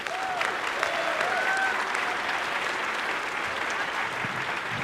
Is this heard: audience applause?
yes